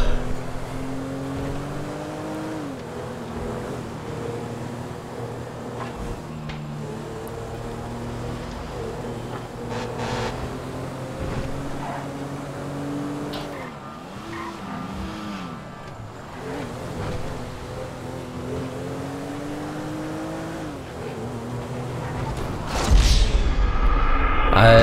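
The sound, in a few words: car driving in GTA 5 video game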